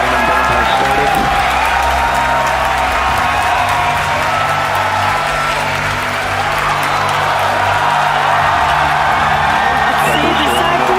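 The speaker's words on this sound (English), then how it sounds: "You can hear our crowd going crazy right now." Crowd roaring and cheering during a SpaceX side booster landing burn and touchdown, a dense sustained wash of applause and whoops over a low rumble, with a commentator's voice running underneath throughout.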